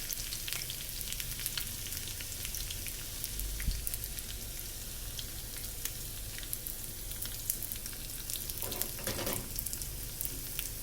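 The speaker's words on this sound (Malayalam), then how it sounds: "ഈ ഉള്ളി ഒന്ന് മൂത്ത് വരട്ടെ, അപ്പോഴത്തേക്കും നമുക്ക് വറ്റൽമുളകും കൂടെ ചേർക്കാം." Shallots, fenugreek and dried red chillies fry in hot oil with a steady, fairly quiet crackling sizzle and scattered pops, and a brief stirring scrape comes near the end.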